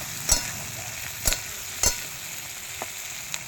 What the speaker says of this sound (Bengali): খুন্তি দিয়ে নাড়াচাড়া করে দিচ্ছি